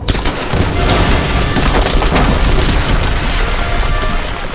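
A loud, sustained boom rumbles through an explosion in the 2013 Tomb Raider video game, dense and rolling from the start and holding steady to the end, with no speech over it.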